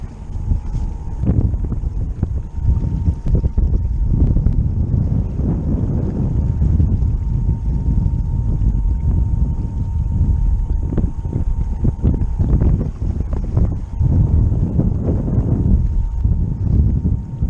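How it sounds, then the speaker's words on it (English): A small twin troller boat motors against a strong tide on a marsh waterway, its engine a low, steady rumble under heavy wind buffeting, continuous and close throughout. "Little twin troller gonna have to work to go against this tide this morning."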